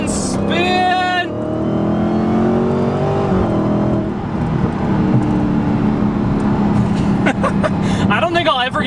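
A 700-horsepower Dodge Hellcat street car pulls away hard with its wheels spinning, a loud, sustained engine roar rising in pitch. Voices talk over the start and end.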